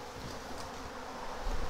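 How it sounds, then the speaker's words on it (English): A swarm of bees buzzes around a swarm trap, a dense steady drone of many wings close by, growing slightly louder near the end with no voices. "They got a lot of bees flying around."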